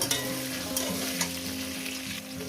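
Potatoes fry in oil in a pan, a dense, loud and continuous sizzle with a few brief crackling spikes and a low steady hum beneath, nothing spoken over it.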